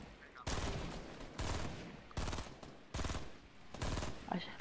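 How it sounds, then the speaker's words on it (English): Rapid automatic gunfire in the video game Fortnite Battle Royale comes in four or five loud sustained bursts separated by short gaps, with a little background chatter. "I'm getting shot."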